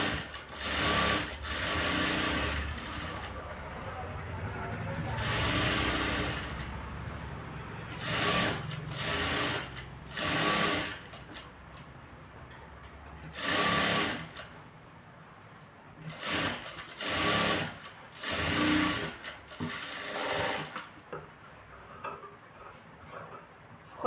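A sewing machine stitches a blouse in repeated runs of steady mechanical whirring, stopping and starting in short bursts with brief pauses between, close and clear with no talking.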